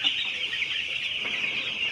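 A dense flock of broiler chicks on a poultry farm keeps up a steady, high-pitched chorus of peeping and clucking, continuous and fairly close with no talk.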